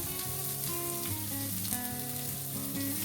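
Onion, crushed garlic and chopped green chilies fry in a pan for batata vada, giving a steady, dense, even sizzle throughout, with music playing in the background.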